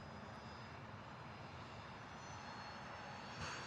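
A fixed-wing airplane at SDF airport in Louisville produces a steady engine roar from a distance, a broad sustained drone that swells slightly near the end, with no voices.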